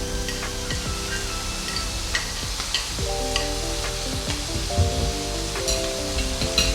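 Bacon and longaniza sizzle in a hot pan with a steady frying crackle, near and fairly loud, with faint kitchen clatter and tonal hum in the background; no talking.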